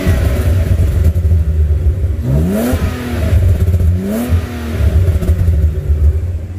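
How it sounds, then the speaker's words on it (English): A six-speed swapped BMW E36 with a burble tune and a catalytic converter revs in an enclosed space, two rising throttle blips sweeping up over a steady deep idle rumble, close and loud with no talking. "This car sounds so good."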